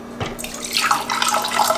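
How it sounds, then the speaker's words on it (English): Water poured into a Presto Precise digital pressure canner over jars of applesauce for water-bath canning, a short splashing, gurgling pour that starts with a drip and builds to a steady rush, close and alone. "I'm gonna have to pour the water in right away"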